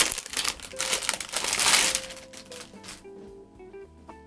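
Packaging around a storage basket being opened, crinkling and rustling in bursts that build to a dense peak, then taper off into quieter handling with no talking.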